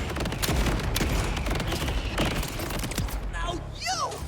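Borderlands 4 shootout gunfire: rapid bursts of shots and booming blasts in dense succession, loud and close, with a few whooshing effects near the end.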